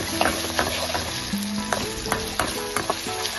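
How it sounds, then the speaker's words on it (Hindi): Onions browning in a pan for a gavar (cluster bean) vegetable bhaji, with ginger-garlic paste added, give a steady close sizzle and frying hiss, punctuated by scraping stirs. "अब हमारी प्याज ब्राउन हो रही है तो हम 1 चम्मच अदरक लहसुन का डालेंगे।"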